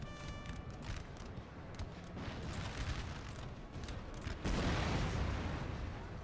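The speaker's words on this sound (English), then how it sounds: "we've got these mortar shells coming in" Mortar shells explode across a Waterloo battlefield in Napoleon Total War, a 3v3 match: repeated dull booms and rumbling blasts overlap densely, with a heavier, louder explosion near the end.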